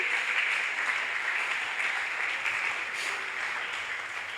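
Church congregation during an evening worship service clapping in praise, a dense, even wall of applause that holds steady throughout without pause.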